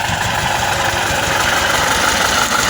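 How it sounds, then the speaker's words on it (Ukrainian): An old tractor engine chugs steadily nearby while ploughing, a continuous low, rough rumble with no pauses. "Та тракторець наш невзрачненький."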